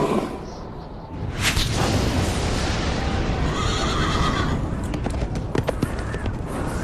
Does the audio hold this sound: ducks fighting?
no